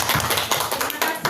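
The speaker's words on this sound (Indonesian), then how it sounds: "tepuk tangan, beri aplaus temannya" Classroom group clapping for fellow students after a presentation, a brief burst of close, slightly uneven hand claps with some voices mixed in.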